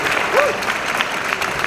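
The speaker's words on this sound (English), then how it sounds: "give you a round of applause." The crowd at a PLAY Expo talk applauds the speaker, a short burst of lively clapping with faint voices and a whoop rising briefly above it.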